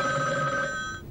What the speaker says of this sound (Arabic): معلش يرد على التليفون، ضاقت خلاقي من التليفونات